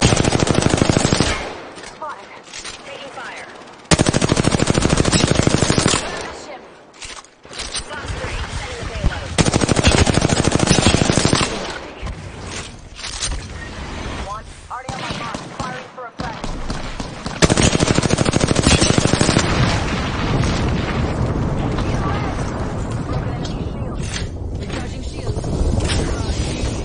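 Automatic weapon fire in the Apex Legends battle royale game, season 12, with loud rapid bursts of shots repeating in dense volleys across the whole stretch, broken by short pauses, under clipped in-game voice callouts.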